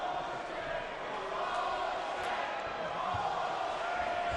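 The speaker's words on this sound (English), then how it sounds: "Well, the crowd is starting to get on them." Arena crowd at a Mike Tyson versus Corey Sanders boxing bout, a steady broad roar of booing and jeering voices filling the hall, continuous and fairly loud throughout.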